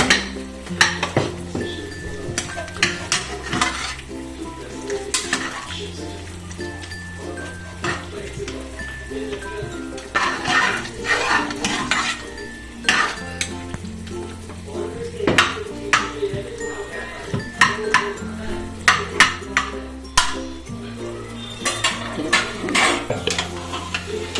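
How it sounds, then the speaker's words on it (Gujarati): Pav bhaji vegetables, boiled, are mashed and mixed in a pan with repeated metallic scraping and clinks of a utensil against metal, steady and close, under background music. "એને એકદમ મિક્સ કરી નાખો।"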